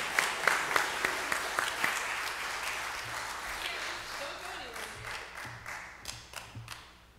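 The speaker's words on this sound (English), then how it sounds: "Let's give our college graduates one more round of applause." Church congregation at a United Methodist worship service applauding college graduates, a dense burst of many hands clapping that gradually thins and fades, with a few isolated louder claps and some voices murmuring underneath.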